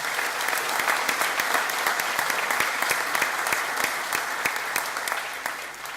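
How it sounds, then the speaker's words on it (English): Sustained applause from a large audience at a college graduation ceremony, a dense, steady roar of many hands clapping at once that keeps going throughout with no voices rising above it. "I think we should give them a round of applause as well"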